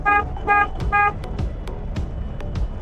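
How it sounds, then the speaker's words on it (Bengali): A car horn sounds three short, loud toots in quick succession during a driving lesson on a busy road, with traffic rumble and a few sharp clicks continuing underneath afterward. "হর্ন বাজান"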